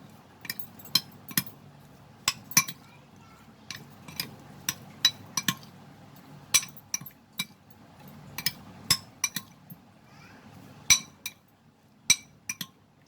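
Prawns being mixed with turmeric powder and salt in a bowl, giving a string of sharp, irregular clinks and taps of a utensil against the bowl, close and fairly quiet with no talk.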